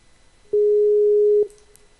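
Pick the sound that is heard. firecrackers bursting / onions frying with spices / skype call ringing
skype call ringing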